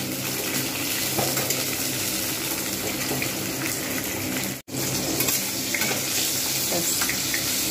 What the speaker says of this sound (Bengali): কাঁকরোলটা ভেজে নেব।